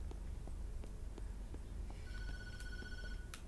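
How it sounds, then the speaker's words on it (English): A telephone rings in the horror video game Tattletail, with a short electronic bell trill sounding in a couple of bursts over a low steady background rumble and faint clip-clop-like ticks. "the phone ringing"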